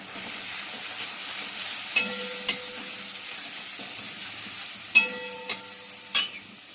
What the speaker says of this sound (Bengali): এই দেখুন, মশলাটা কষাচ্ছি।